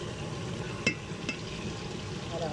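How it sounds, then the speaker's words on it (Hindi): A spoon stirs mutton curry with turmeric in a pot, a steady low scraping and bubbling with two brief sharper clinks against the metal, moderately quiet and alone. "आहिस्ता चम्मच हिलाते रहें, नीचे ना लग जाए।"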